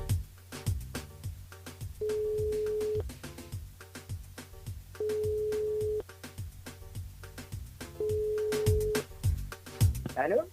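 French radio show caller being phoned live: a steady electronic ring tone sounds in three repeated bursts, each about a second long, over background music, with a brief voice at the end.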